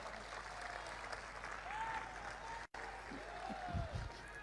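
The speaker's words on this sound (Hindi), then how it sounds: "यहां तो तालियां बजी" Applause from an audience at a Hindi speech, a steady, dense wash of clapping that runs throughout at a fairly low, distant level, with a few faint tonal whistles over it.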